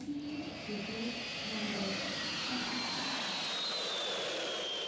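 In a radio play, an airplane takes off with a steady jet engine roar that holds loud and even over several seconds, with a faint whine rising above it and no voices.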